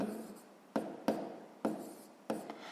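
Pen or chalk strokes in a sixth-grade maths lesson land as several short, distinct scratching taps at uneven intervals, quiet and close, with no talk over them.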